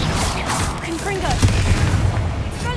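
A Confringo spell detonates in Hogwarts Legacy, a heavy close boom rising out of a dense, noisy game soundscape, followed by rumbling and swirling magical whooshes that stay loud to the end.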